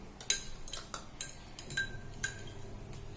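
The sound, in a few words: spoon stirring sugar into panchamrit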